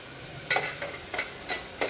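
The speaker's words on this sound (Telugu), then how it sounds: "ఆయిల్ కొంచెం హీట్ ఎక్కగానే ఆనియన్స్ వేయండి" Onions dropped into hot oil in a home kitchen pan, with a soft sizzle under several sharp scraping stirs of a spoon that come roughly every third of a second, close and fairly quiet, with no voices.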